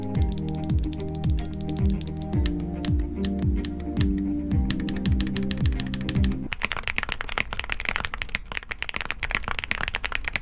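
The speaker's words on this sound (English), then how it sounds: "Here's what the Haimu Rock sounds like." Rapid clicky keystrokes on a keyboard fitted with Haimu Rock tactile switches, a dense close run of sharp taps over steady background music, shifting to busier, brighter typing midway.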